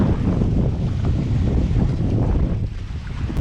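Strong wind buffets the microphone on a rough, stormy sea around a small island, with a steady roar of waves and surf close by and no talk.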